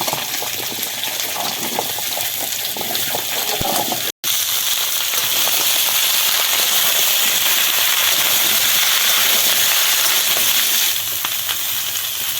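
Vegetables frying in hot mustard oil in a pan for khichuri give off a steady, dense sizzle, loud and close, with a brief clatter partway through and no talk over it.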